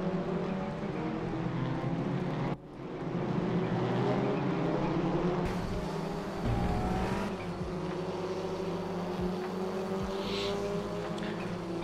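Race car engines in the RaceRoom sim racing game with cars running three wide, continuous whining engine tones rising and dropping through gear shifts, layered over one another with brief cut-offs, and no talk.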